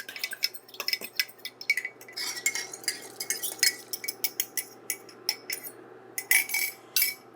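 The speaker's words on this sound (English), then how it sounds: "we're going to whisk that together with a fork" Fork whisking cornstarch in a bowl for a Philly cheesesteak soup, producing quick irregular metallic clinks and scrapes against the dish, close and clear with no talking.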